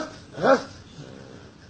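A rabies patient lets out one short, hoarse, bark-like cry, a human voice imitating a dog, near and alone against a quiet room background.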